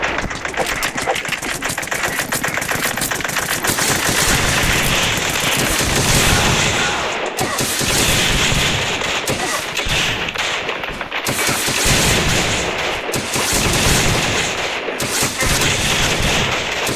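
Dense, rapid gunfire fills the video game Battlelands Royale: loud sustained automatic bursts rattle almost without pause, with brief gaps between volleys.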